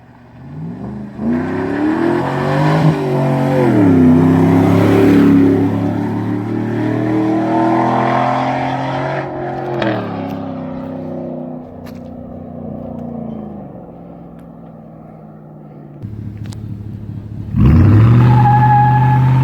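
A 2011 Chevrolet Silverado with a muffler delete drives and revs loud and close, its engine climbing and falling through long pulls before a final sharp rev near the end.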